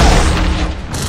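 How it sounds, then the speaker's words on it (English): A loud, dense burst of machine gun fire from the video game Shank 2 booms briefly and forcefully with no voices. "The machine guns don't even hurt it!"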